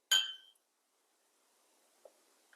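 Glasses clink together in a toast over MGM Gova vodka, one bright sharp ring near the start that rings out briefly, followed by silence and a couple of faint small knocks.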